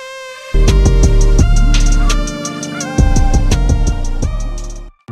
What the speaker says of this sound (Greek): Έχω χρησιμοποιήσει ένα preset από το Serum και χωρίς το εφέ που έχω βάλει ακούγεται έτσι.